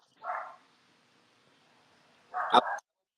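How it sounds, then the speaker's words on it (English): A dog barks twice at a distance: one short muffled bark, a pause, then a second sharper bark, each standing alone against a quiet background. "the dog's barking is really interfering with the signal"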